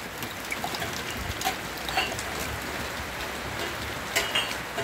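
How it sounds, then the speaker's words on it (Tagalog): Steady rain pours down, a dense hiss with scattered drops and patters landing close by, with no voices. "Patuloy ang ulan. Patuloy-tuloy lang sa pag-ulan."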